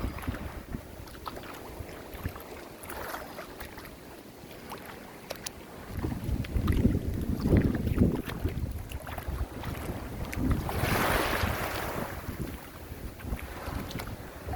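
Strong gusty wind buffets the microphone with low rumbling roar, rising louder midway, over distant surf and open outdoor ambience.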